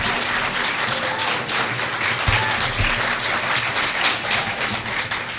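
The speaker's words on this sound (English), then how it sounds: "If your fans want to clap, they can." Audience applause fills a candidate debate for an Oklahoma state Senate district, a steady, dense wash of clapping that holds at an even level throughout.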